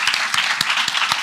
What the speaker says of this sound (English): please join me in a round of applause to our guests